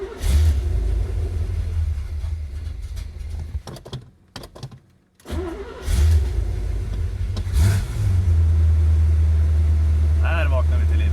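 A Chevrolet Corvette engine cranks and fires after sitting through the winter, a loud low rumble that drops out briefly, then catches and settles into a steady, close idle with a few revs.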